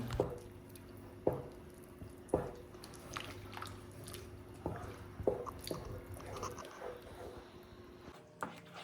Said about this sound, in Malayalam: ഇതിലേക്ക് ഇനി നമുക്ക് ശർക്കരപ്പാനി ചേർത്തിട്ട് നന്നായിട്ടൊന്ന് മിക്സ് ചെയ്ത് കുറുക്കിയെടുക്കണം